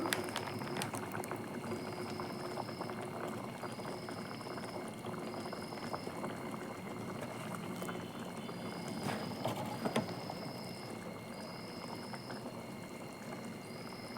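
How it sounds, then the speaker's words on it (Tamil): Egg thokku gravy with pepper powder simmers in a pan, giving a faint, steady bubbling and gentle crackle with no talk. "நல்லா அதுவும் கரைஞ்சி நல்லா கொதிக்கட்டும்"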